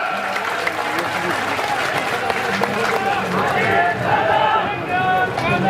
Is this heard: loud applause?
yes